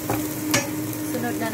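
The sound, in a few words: garlic frying in a pan for adobong pusit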